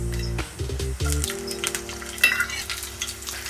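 Cumin seeds and green chillies sizzle and crackle steadily in hot oil in a kadhai, a close, continuous frying hiss with a low hum underneath.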